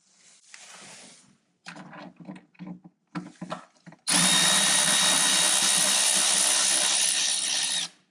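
A power driver fitted with a Torx T30 bit works on the engine vanity cover of a BMW X5 E53 with the N62 V8. A few short, close bursts come first, then a loud, steady whir runs for about four seconds.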